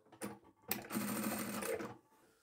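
Sewing machine backstitching a mitred quilt corner: a short stitch burst, a brief pause, then a steady, close mechanical whir of rapid stitching lasting about a second before stopping.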